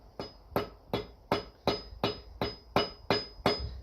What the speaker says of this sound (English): This is the only time you really use a metal hammer to fit anything on an axe.